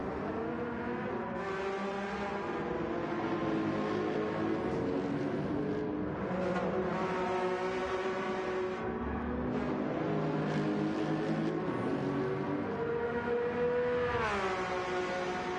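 Race cars lap Monza in Gran Turismo, with continuous whining engine tones rising and falling through gear changes and several cars overlapping at a steady, moderate level.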